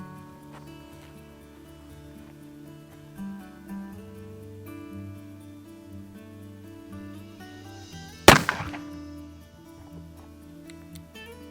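A single sharp gunshot from a Pietta 1858 Bison black-powder revolver cracks out once, loud and close, over a steady low hum of outdoor background tones.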